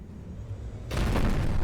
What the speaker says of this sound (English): And pack cannons, my favourite.